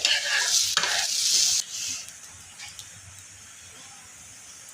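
An egg paratha frying in oil on a pan, with a loud sizzle and scraping turns early on that settle into a softer, steady frying hiss.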